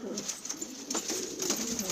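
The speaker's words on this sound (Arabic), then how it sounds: "حمام كلها نخب" Prized tumbler pigeons at a bird sale cooing close by, repeated soft throaty coos rolling over each other in a continuous flock murmur.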